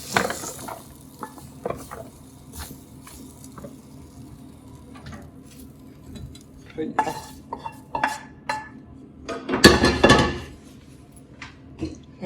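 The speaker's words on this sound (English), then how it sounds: "I always like building up some flavour, so I always sear off my veggies first" Carrots, onions and garlic sear in a pan ahead of braising lamb shanks, a soft sizzle under repeated clinks and scrapes of a utensil against the pan, building to a louder burst of stirring near the end.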